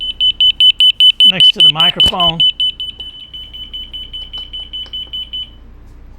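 An Eesens Guardian alarm key fob sounds a rapid, piercing high-pitched beeping pulse held close, with a person speaking briefly over it partway through, then a steadier tone that fades near the end.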